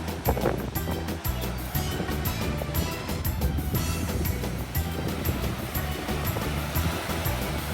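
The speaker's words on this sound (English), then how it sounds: "Check out the wave action here." Ocean waves wash and break in a continuous broadband roar, with wind buffeting the microphone and giving a rough, gusty texture throughout.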